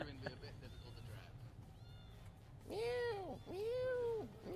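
Inside a moving car, a cat lets out two long, loud meows near the end after quieter sounds, with a person's voice also heard.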